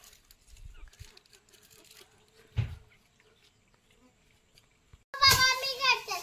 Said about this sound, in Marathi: हे मधमाशीचा पोळा आहे